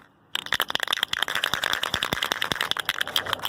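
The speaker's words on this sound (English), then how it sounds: "Make sure you shake the can." A spray paint can is shaken hard for a home trailer painting job: after a brief quiet start, the mixing ball rattles in quick, loud, evenly repeated clacks until the end.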